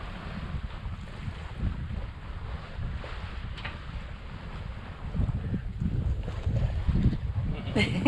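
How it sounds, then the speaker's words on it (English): A sailboat runs under sail with its engines off, a steady rush of wind and water washing across the microphone and swelling a little louder near the end. "Sailing along, engines off."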